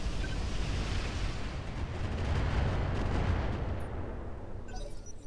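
Incendiary weapon firing in the mech combat game Roguetech, a sustained roaring, rumbling barrage that holds steady for several seconds before easing off, with no talk over it.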